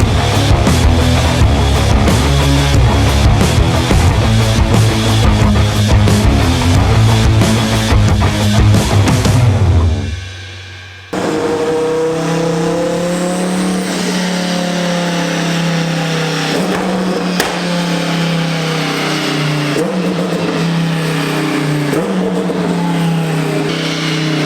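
Twin-turbo Lamborghini engine revving hard on a dyno, a loud sustained high-rpm roar that cuts off abruptly, then picks up again into another long, loud pull with rising engine tone.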